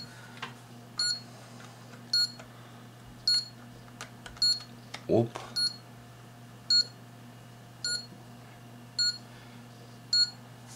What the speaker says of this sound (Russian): И сейчас вот он пищит, говорит, что ой-ой-ой-ой.